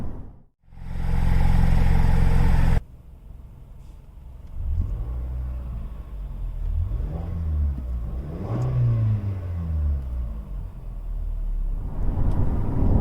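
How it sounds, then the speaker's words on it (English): A 2018 Toyota Camry engine growls and climbs in pitch through several gear shifts as it accelerates, loud and close, after a brief burst of noise at the start. "there's audible engine growl with some acceleration"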